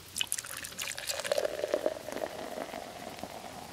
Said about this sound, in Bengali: অশোক ফ্লাস্কের থেকে 1 কাপ চা ঢেলে নিল।